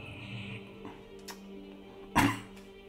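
Short bursts of coughing from a person with a lingering post-COVID cough, a couple of quieter hacks followed by one sharp, louder cough near the end, over faint background noise.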